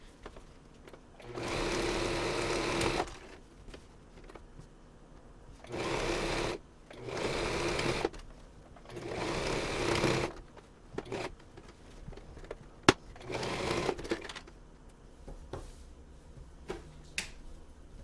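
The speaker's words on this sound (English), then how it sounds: "And then we sew it down." Sewing machine stitching a dog bandana, running in several whirring bursts a few seconds long, separated by pauses with small clicks and handling noises.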